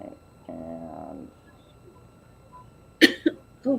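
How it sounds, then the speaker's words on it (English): Three short, sharp coughs come in quick succession near the end, loud and close, after a stretch of quiet room tone and a brief hum, during a casual podcast-style recording. "if I can stop coughing"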